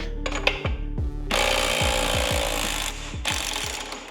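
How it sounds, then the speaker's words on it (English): An impact tool hammers loose the rear axle nut on a 2024 or later Harley-Davidson Road Glide, giving a close, loud rattling burst with repeated sharp knocks and a sustained ratcheting clatter. "Now we can break our axle nut loose."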